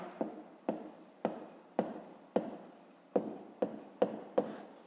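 Pen or pencil writing by hand in a notebook during a fifth-grade maths exercise, with a run of short scratchy strokes separated by regular sharp taps as each word or figure is finished, close and fairly quiet.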